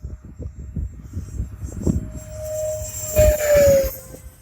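A radio-controlled jet plane makes a full-speed pass, its turbine whine rising and sweeping past in a clear pitch-shifting tone over rustling background noise.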